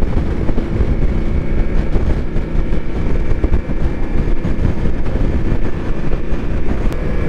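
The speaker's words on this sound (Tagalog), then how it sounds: "Malakas yung hangin ah" Strong wind buffets the microphone in a loud, continuous rush while riding a Ducati motorcycle in Las Vegas, mixed with a low rumbling engine drone.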